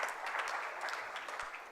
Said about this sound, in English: This is my applause for your hard work.